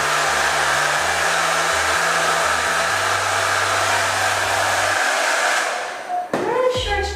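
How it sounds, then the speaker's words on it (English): A hair dryer blows a steady, loud whoosh of cool air over thermal colour-changing unicorn hair dye, its motor tone stepping between settings before it winds down and clicks off near the end. "So I might blast it with some cool air"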